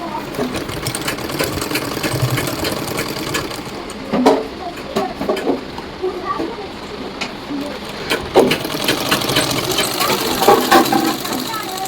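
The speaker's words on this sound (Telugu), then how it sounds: "చూసారు కదా కుట్టు అయితే ఎంత ఫ్రీగా వస్తుందో" An oiled sewing machine, cleaned of rust, stitches freely in a steady mechanical whir with faint intermittent clicks, while a person talks over it.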